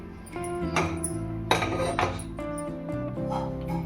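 A pressure cooker is set down on a gas stove, giving a few metallic clinks and knocks against the grate over a low steady hum, close by and with no talking.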